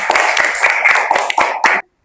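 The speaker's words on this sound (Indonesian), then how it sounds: "Tepuk tangan untuk kita semua." At the close of a nursing lecture, a small audience claps briskly for under two seconds, the sharp hand claps bunched close together, before stopping abruptly into silence.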